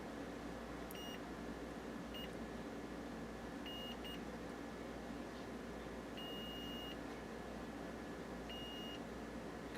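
A multimeter beeps during a continuity check on a circuit of a PE Model 99V restoration: several short, clear, high beeps at irregular intervals, some paired, over steady background hiss.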